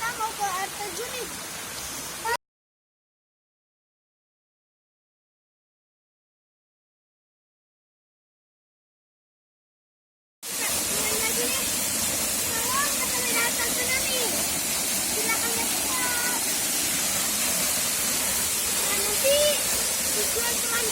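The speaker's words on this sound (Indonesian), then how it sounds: "hari ini kita udah sampai di sungai kecil nih" A small river flows steadily over rocks at a camping ground, giving a continuous close hiss and rush of water, cut by a long stretch of total silence before the flow resumes.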